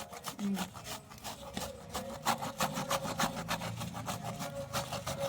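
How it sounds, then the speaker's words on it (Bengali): A mango rubbed against a grater gives close, rapid rasping strokes in a steady back-and-forth rhythm for several seconds. "তো আমটা এখন ঘষে নেওয়া হচ্ছে"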